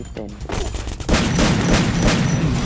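Rapid bursts of Uzi submachine gun fire from a video game, loud and continuous after a brief pause, with a voice briefly heard at the start.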